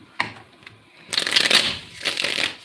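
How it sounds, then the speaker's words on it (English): Tarot cards being shuffled by hand up close, with an initial tap followed by a longer burst of riffling and a second shorter burst, no talking. "I'm going to keep shuffling until God gives me the green light to begin."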